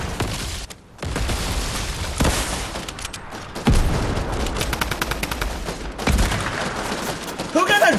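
Rapid bursts of drum gun fire in Fortnite, loud and close, with repeated volleys over about eight seconds and players shouting among the shots.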